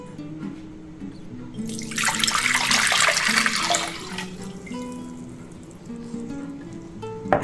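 Warm water pours steadily for about two seconds, a bright splashing rush, with soft background music before and after.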